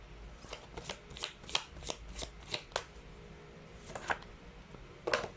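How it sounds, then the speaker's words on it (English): Tarot cards being shuffled by hand during a pick-a-card reading, a steady series of quick papery riffles and taps, close and fairly soft, with no talking. "Let's pull up another set of cards."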